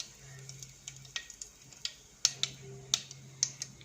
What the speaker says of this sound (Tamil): கொஞ்சம் எண்ணெய் ஊற்றி அதில் கடுகு போட்டுக்கோங்க. கடுகு பொரிஞ்சதும் இது கூட கொஞ்சம் கருவேப்பிலை ஆட் பண்ணிக்கோங்க.